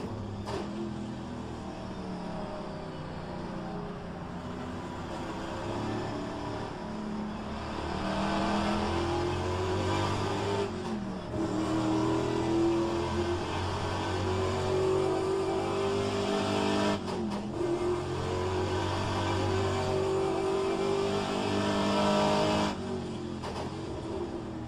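A Mustang's engine in a racing video game, revving loudly and steadily with rising pitch sweeps, broken by short dips as gears shift before it climbs again.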